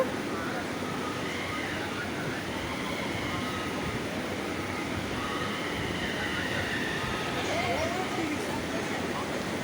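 Steady broadband rumble and rattle of a moving passenger train heard from inside a carriage, continuous and fairly loud, with faint voices of people mixed in.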